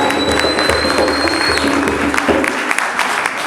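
Sustained applause from an audience honouring a guest at a South African UDPS federation gathering, dense and steady for about two and a half seconds before thinning out.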